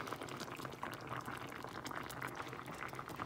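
Rice boils in a small pot on the stove, a steady close bubbling and gurgling with soft pops that continues evenly throughout at low volume.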